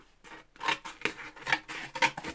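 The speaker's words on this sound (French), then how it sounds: "Alors, ils sont vraiment costauds ces ciseaux-là" Sturdy scissors snip through cardboard in a quick run of about four sharp, close cutting strokes with short pauses between them.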